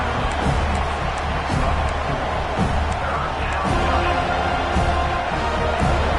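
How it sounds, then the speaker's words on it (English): A dense, steady roar from a huge stadium crowd at a football game fills the air, loud and continuous, with scattered shouts and whoops rising out of the din. "listen to this crowd noise. This stadium is vibrating."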